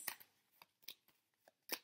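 Tarot cards being shuffled: a series of soft, quick riffling and snapping bursts at irregular intervals, close and quiet, ending with a sharper slap of the deck.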